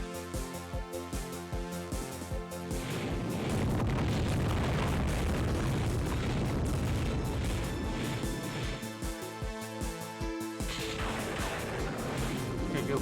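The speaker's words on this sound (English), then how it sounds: "Incoming missile." A missile strikes in the FireFight video game, a dense, loud wall of rumbling explosion that swells and sustains over a steady bed of game music and effects, with no one talking.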